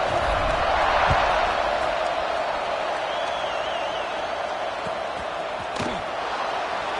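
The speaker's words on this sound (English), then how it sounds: "They're set to kick it off, and this crowd now ready to get behind them." Broad steady roar of a stadium crowd at kickoff in the video game College Football 26, a continuous loud wash of cheering with a few faint thuds and a brief whistle-like tone mid-way.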